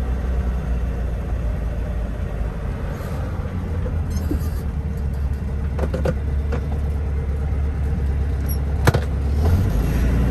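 Volkswagen Fusca (Beetle) car driving, a steady moderate in-cabin engine drone and road noise with a few faint clicks and knocks, no talk.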